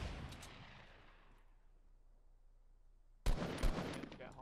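Gunfire in the video game Fortnite, a loud blast trailing off into a long fading echo, then silence, then another burst of close, sharp shots.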